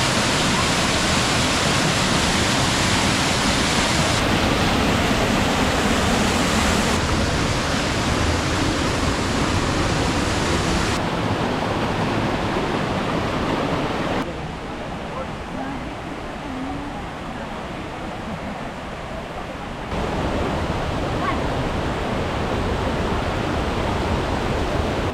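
River water flows steadily in a Turkish riverside spot where café tables stand in the shallow current, a continuous broadband rush that dips slightly in level partway through before returning.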